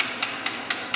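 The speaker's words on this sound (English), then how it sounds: "Whisk your egg you have to whisk it until" An egg is whisked briskly in a bowl, the whisk tapping in four evenly spaced, faint clicks over a soft background hiss.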